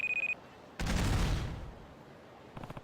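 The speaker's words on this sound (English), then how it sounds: "That was an explosion." An explosion goes off in the video game Judgment: a sudden loud blast that rumbles and fades over about a second, preceded by a short electronic alarm beep and followed by brief clattering debris.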